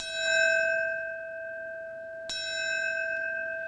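A ceremonial bell rung at Ground Zero in New York in honour of a fallen firefighter gives two clear, ringing strikes with a long shimmering decay between and after them, heard alone with no talk.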